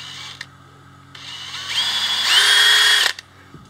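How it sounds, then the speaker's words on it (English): A power drill bores through a slightly rusty gear for a 3D-printed spider tank build, starting in short bursts and then rising into a steady, loud, high whine that grinds for about two seconds before cutting off. "And then I put in my drill and just go through here."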